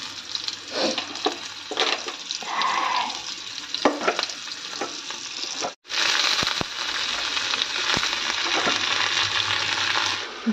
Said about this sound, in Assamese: এইফালে কেৰাহী গৰম হৈ গ'ল বেঙেনা বহাই দিলোঁ মই